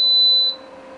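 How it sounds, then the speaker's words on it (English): A Gourmia French Door XL air fryer oven gives a single clear high-pitched electronic beep lasting about half a second, with a faint soft click afterward. "Sorry for that beeping though."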